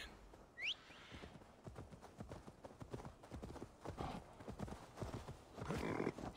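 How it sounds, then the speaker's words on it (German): A horse in the video game Assassin's Creed Valhalla gallops with steady rhythmic hoofbeats, close and continuous, with a brief whistle-like call near the start and a short whinny toward the end. "So, Pferdchen rufen."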